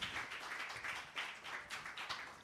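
Audience clapping at a sponsor presentation during a media launch event, a fairly soft, steady patter of many hands with small surges, heard alone without talk.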